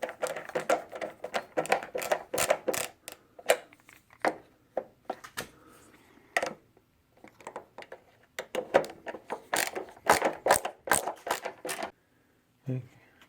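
Close, quiet clicks, taps and small metallic knocks come in irregular bursts as a cable clamp is tightened while wiring an AO Smith electric water heater, with short pauses between the handling noises.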